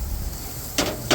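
A grill lid swings shut with two quick knocks close by, the second slightly louder, over a low background hiss.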